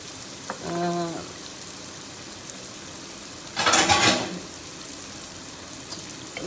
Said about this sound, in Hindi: इसको मसाला भूने।